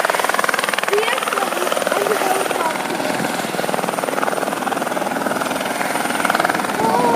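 A helicopter taking off, its steady rotor and engine roar loud and close throughout, with voices calling out over it.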